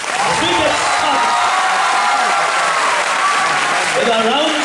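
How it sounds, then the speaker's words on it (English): Audience applause for the teams at a TCS IT Wiz quiz event in Bangalore, loud dense clapping from a large crowd that holds steady throughout, with an amplified voice talking underneath. "can we have a round of applause for all of them?"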